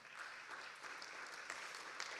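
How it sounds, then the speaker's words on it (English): Audience applause for a panel speaker at a freedom of expression panel event, steady continuous clapping from a crowd filling the whole moment with no talk over it. "Applause for her also"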